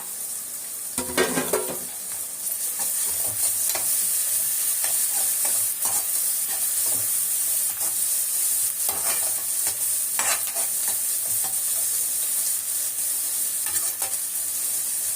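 Onions, green chillies and curry leaves sauté in a pan for a Kerala chicken dish: a loud, steady sizzle, with a sharp scrape and clatter of stirring early on and a few more scrapes later, up close, no talking.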